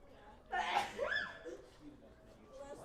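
A single sneeze bursts out at moderate distance in a classroom setting, followed by faint murmuring and low background noise.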